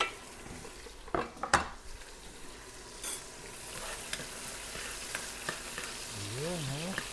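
Garlic and chili sizzle steadily in a hot pan for a chicken adobo, with a few sharp clinks and scrapes of a utensil stirring against the metal, close and alone without talk.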